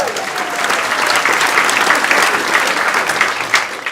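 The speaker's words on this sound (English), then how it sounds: "I think a round of applause for Pat Egan" A theatre audience at Dublin's Gaiety Theatre claps loudly and continuously, with dense, even applause filling the whole stretch.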